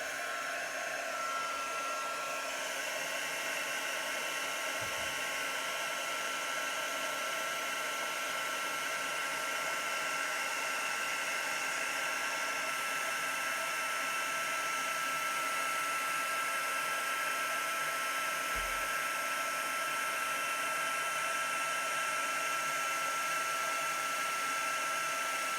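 A heat tool blows steadily and continuously to melt embossing powder, a constant whooshing hum of air running alone for the whole stretch at close range, with no voices.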